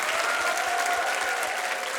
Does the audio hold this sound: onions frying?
no